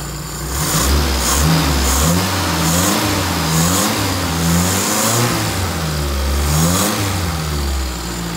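A Toyota 4K engine in an owner-type jeep revs unevenly, rising and falling in repeated surges over a steady idle, loud and close with no talking.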